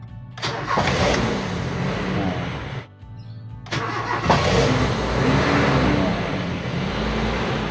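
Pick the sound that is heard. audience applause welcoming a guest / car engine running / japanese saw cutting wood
car engine running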